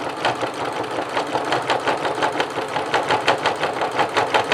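A Janome MC 9000 sewing machine stitches over thick fabric, its needle beating in a fast, steady rhythm with a constant motor whir. It is close and loud, with no talking.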